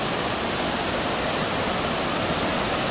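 Bantakay Falls roars as a loud, steady waterfall rush, constant and close with no breaks.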